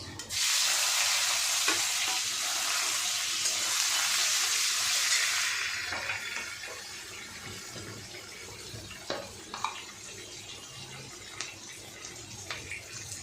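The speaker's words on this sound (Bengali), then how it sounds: "আমি এবার পেঁয়াজগুলো দিয়ে দেবো এই যে পেঁয়াজ" Onions dropped into hot oil with fried cumin and bay leaf sizzle loudly, a dense hiss for about five seconds that then fades to a softer crackle with occasional stirring scrapes.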